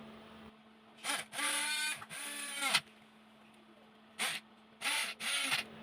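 A homemade mini drill bores bolt holes for a DIY RC robot car, whirring in several short bursts of high motor whine that start and stop, with a faint steady hum between them.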